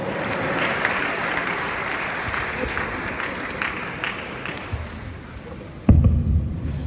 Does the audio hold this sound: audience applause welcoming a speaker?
yes